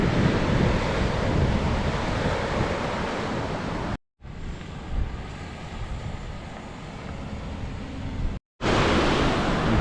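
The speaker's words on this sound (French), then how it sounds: "On est sur une plage de sable noir." Waves wash onto a black volcanic sand beach of small pebbles on Lanzarote, a loud continuous roar of surf mixed with heavy wind buffeting, broken by two abrupt short gaps.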